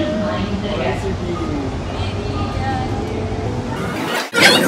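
Steady rumbling hum inside a metro train in Nagpur with a voice talking over it, ending in a brief burst of louder noise.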